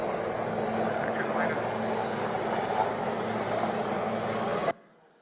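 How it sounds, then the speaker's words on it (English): A helicopter styled like the presidential aircraft roars past nearby in a steady, loud whir of rotor and engine that cuts off abruptly near the end, with no talk. "this helicopter looks an awful lot like the helicopter that the president flies in and out of"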